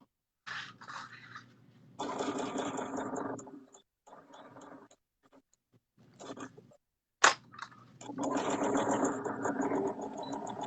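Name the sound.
sewing machine stitching a bag seam at 1/2 inch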